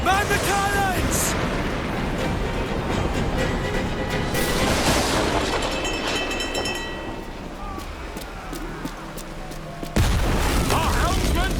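Heavy cannon fire booms repeatedly during a pirate-era naval battle in Assassin's Creed Black Flag, loud deep blasts with crashing debris and shouting crew voices layered over a continuous roar of battle.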